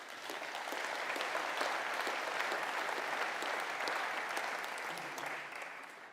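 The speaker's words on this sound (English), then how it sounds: "Let's give a round of applause to SAP" Steady audience applause at a GPU technology conference keynote, dense clapping sustained at even loudness throughout and tapering slightly at the end, with no talk over it.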